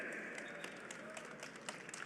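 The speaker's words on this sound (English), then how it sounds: "How about a round of applause?" A crowd applauds the race winner at Indianapolis Motor Speedway, a faint, steady patter of clapping heard from a distance that continues through the whole moment.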